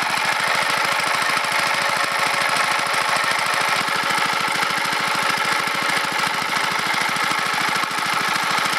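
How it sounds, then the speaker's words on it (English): Induction motor generator setup with its driving motor running with no load while warming up, a steady, even mechanical drone with a fine rapid pulsing, continuous and unchanging throughout. "Motor warm up a little bit."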